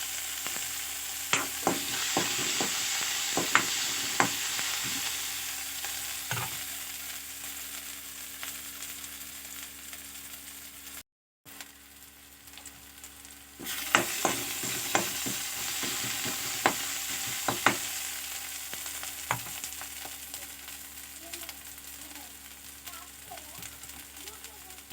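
Tomatoes sauté in a pan with a constant sizzle and repeated clattering spatula strokes that come in bursts, pause briefly near the middle, then resume; a voice speaks occasionally underneath.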